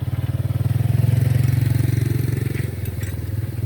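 A motorcycle engine runs steadily on a road during a durian harvest in a village, its low, throbbing pulse loud and near, rising slightly then easing off without any talk.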